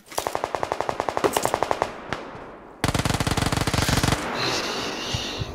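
Automatic gunfire in PUBG Lite: a rapid, evenly spaced burst of shots, a brief pause with a single crack, then a second dense, louder burst that gives way to a fading echoing tail.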